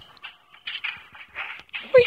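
A dog in the video game Pixel Gun 3D whimpers and yips in a string of short, high, breathy cries, close and moderately loud, ending in a sharper whine.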